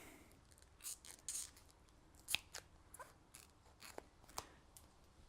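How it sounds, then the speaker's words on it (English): Scissors snip through bicycle handlebar tape several times at an uneven pace, sharp crisp cuts with small rustles between them in a quiet room. "So take a pair of scissors, just from around about where the tape is there"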